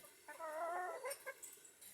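A hen gives a drawn-out, wavering cluck followed by a few short clucks, faint against quiet outdoor background with no talking.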